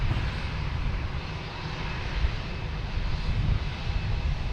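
A jet airliner's engine roars steadily at Boston Logan Airport, a loud, continuous broadband rumble that stays strong throughout with no voices over it.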